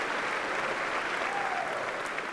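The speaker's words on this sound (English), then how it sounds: "give yourselves a warm and much-deserved Golden Flash round of applause" Graduates at a Kent State summer commencement applaud themselves in a steady, dense wash of clapping that holds evenly at moderate distance, with no one speaking over it.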